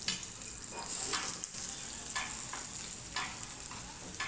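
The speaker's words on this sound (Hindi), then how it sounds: "अब डालेंगे ये बैंगन" Eggplant pieces drop into a hot pan for a spicy curry and fry with a loud, steady sizzle, a brief burst of hiss as they hit the oil, then soft stirring scrapes over continuous crackling.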